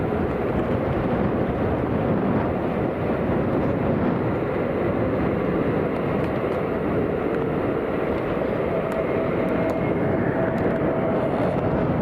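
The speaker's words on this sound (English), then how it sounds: "it looks like the 380 may make it on this runway" Airbus A380 airliner coming in to land at London Heathrow in strong wind: a continuous broad roar of jet engines mixed with gusting wind, steady and fairly loud throughout, with no voices.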